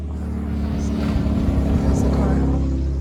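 A car passes along a road near a river bend, a broad low rumble that swells gradually as it goes by, loud and close, with no talk over it.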